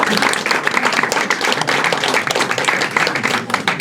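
Audience applause at a political convention on health, where Florian Philippot is speaking: dense, sustained clapping from a large crowd, steady and loud throughout with no break.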